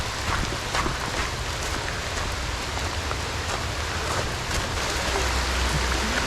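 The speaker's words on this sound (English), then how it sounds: "This rain is pouring now." Heavy rain pours steadily outdoors beside a muddy, swollen creek, a dense continuous hiss of drops striking water and ground with no break for the whole stretch.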